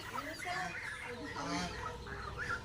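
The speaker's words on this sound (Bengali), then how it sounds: "আমার ভাবি রাজহাঁসটা ধরছে, এটা জবাই হবে এখন" A goose honks and squawks in agitated bursts while being caught, fairly faint, with scuffling and a few other fowl sounds mixed in.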